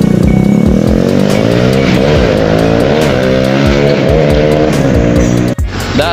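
A modified Honda CB motorcycle engine with a Satria FU150 head and untuned carburetor revs hard and repeatedly, rising and falling in pitch with a loud, raspy, uneven roar, close by and without talk.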